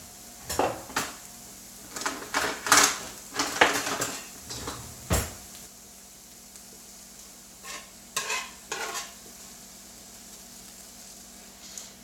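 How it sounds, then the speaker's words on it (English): Soft sizzling of olive oil in a frying pan while cooking a breakfast burrito, broken up by repeated clanks and scrapes of a utensil stirring against the pan. "It's starting to sizzle."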